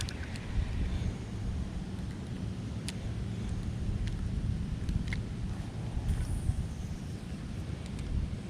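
Wind blows over a lake, with steady broadband rumbling and buffeting against the microphone and a few faint clicks and knocks scattered through.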